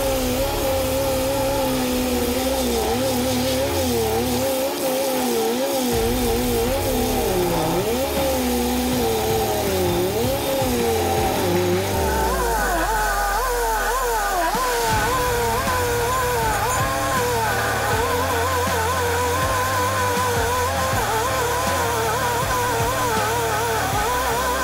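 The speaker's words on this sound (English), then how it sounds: "the Carlton SP7015 tree stump grinder turns tree stumps into fine mulch" A Carlton SP7015 stump grinder chewing a tree stump into fine mulch, a loud, continuous roaring engine whose pitch dips and surges under load, with a deep rumble partway through, and no voices.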